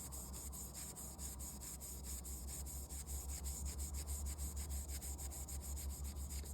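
Scotch-Brite pad is rubbed by hand along an etched Damascus steel knife blade for a satin finish: a soft, close, continuous scrubbing with quick repeated strokes over a low steady hum.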